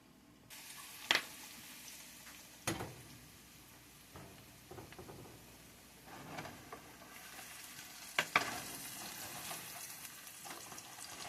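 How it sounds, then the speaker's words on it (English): Food frying in Crisco shortening with butter in a home kitchen pan, a soft steady sizzle with a few sharp pops and clinks of utensils at moderate distance. "We're cooking them in Crisco with butter"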